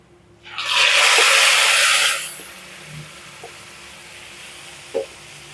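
Jute leaves dropped into a pan of fried onions hit the hot oil with a loud, bright sizzling burst that fades after a couple of seconds into a low simmer, with a few faint clicks of stirring.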